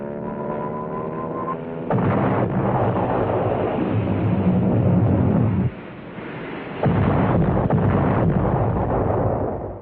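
Bombs burst during B-24 bombing practice on a dry lake. A steady tone first gives way to heavy, sustained rumbling blasts, a brief drop, then another long roaring explosion, loud and continuous.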